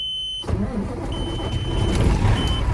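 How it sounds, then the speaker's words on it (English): A 2003 Peterbilt 379 truck's Detroit Series 60 diesel engine cranks briefly and catches, then settles into a rough, low idle that rumbles steadily for a couple of seconds. "I'm going to get the engine running"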